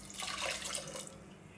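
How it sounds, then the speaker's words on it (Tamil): Water poured into a pot of lentils for sambar, a short steady splashing rush up close, tapering off at the end. "பருப்பு மூழ்கிற அளவுக்கு தண்ணி ஊற்றிக்கலாம்."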